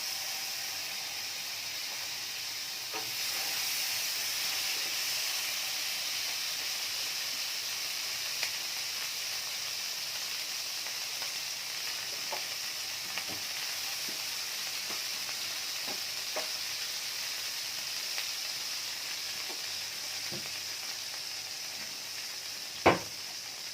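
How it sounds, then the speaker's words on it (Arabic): Ghee melts in a tray on a gas stove with a steady, even hiss and sizzle throughout, broken by faint scattered clicks and one sharp tap near the end. "جبنا كده صينيه، هنحط قطعه سمنه"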